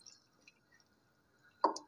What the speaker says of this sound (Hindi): अब इसमें डालेंगे आधा गिलास के करीब पानी